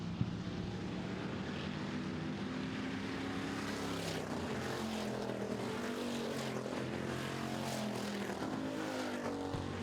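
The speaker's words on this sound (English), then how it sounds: "passing now the 55 car, so Brett Proctor into 4th." Pure stock race cars at a dirt oval heat race roar past in a steady, loud engine drone, with overlapping motors rising and falling as the field passes, no talk.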